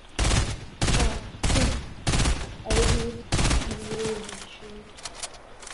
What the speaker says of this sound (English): Oh, you're shooting them too?